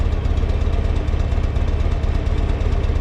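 A 2004 Buell XB12R Firebolt motorcycle engine idles steadily and loudly nearby, a low, even rumble with a rapid pulsing beat throughout.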